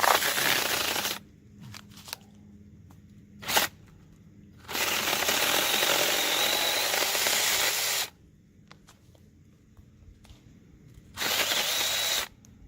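A saw cutting straight into a standing tree trunk during felling: loud, rough bursts of ripping cutting noise, several seconds each, separated by quiet pauses and a few short sharp knocks, with no talk.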